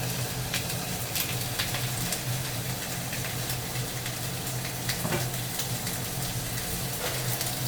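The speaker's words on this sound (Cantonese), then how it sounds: "就放落去煎" A whole fish fries in a red-hot wok, giving a loud, continuous, even sizzle that fills the whole stretch with no talking.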